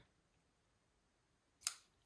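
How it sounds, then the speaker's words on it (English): Scissors snip once through a bracelet cord near the end, a single sharp, close cut after a quiet stretch. "now when I cut it, got my scissors"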